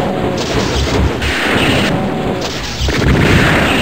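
Loud, booming gunshots in the video game Doom 2 in a few heavy bursts, with dense rumbling blasts filling the clip and no talking.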